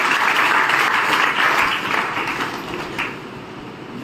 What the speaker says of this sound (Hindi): जोरदार तालियों के साथ मैं उनको